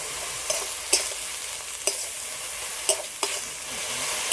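Leafy greens wilting in a hot pan with a steady close sizzle, broken by a handful of sharp scraping strokes from a stirring utensil, with no voices.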